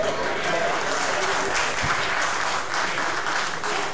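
At a stand-up comedy show, an audience claps in a loud, dense, sustained round of applause that runs the whole stretch, with faint crowd voices mixed in.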